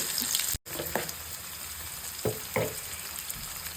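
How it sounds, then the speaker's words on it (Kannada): Mustard seeds and chopped onion fry in hot oil, a steady close crackling sizzle with a brief dropout and a few louder spits and stirring clatters. "ಚಟಾಪಟ ಅಂತಿದೆ ಅಂತ ಇರ್ಬೇಕಾದ್ರೆ ಒಂದು ಚಿಕ್ಕ ಈರುಳ್ಳಿ ಕಟ್ ಮಾಡ್ಕೊಂಡು ಈರುಳ್ಳಿ ಹಾಕೊಳ್ಳೋಣ"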